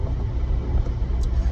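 Steady low road rumble fills the cabin of a 2002 Ford Focus ZX5 hatchback cruising along, a continuous broadband drone of tires on pavement with no voices.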